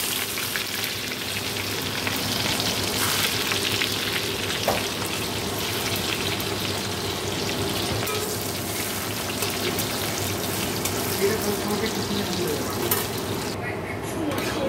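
Chopped onion frying in a pan for ghugni, a steady, dense crackling sizzle that holds evenly throughout, close and fairly loud, with no talk.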